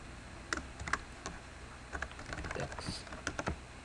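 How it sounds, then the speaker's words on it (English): Keys tapped on a computer keyboard during a Python Flask coding session, a quiet run of irregular clicks with short bursts and pauses, no talking. "Having trouble typing."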